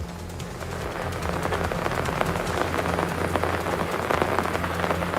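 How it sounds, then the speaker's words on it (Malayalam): Heavy rain pours steadily on a national highway in Kannur, Kerala, a dense continuous hiss of drops drumming on surfaces, with a low rumbling undertone and no voices. "ഇപ്പോൾ വീണ്ടും ഈ ഒരു സമയത്ത് മഴ ശക്തമായിട്ടുണ്ട്"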